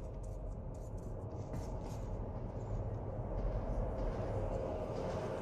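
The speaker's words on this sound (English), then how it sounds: "Oh, it's a ghost train." Ghost train rumbling through a metro tunnel in the video game Metro 2033 Redux, a steady low roar and rattle of rolling carriages that holds throughout with no voices.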